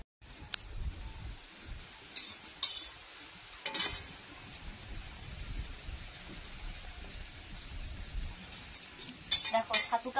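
Chhatu frying and being stirred in a pan in a village home kitchen: a quiet, steady sizzle with occasional scraping clinks of a utensil against the pan.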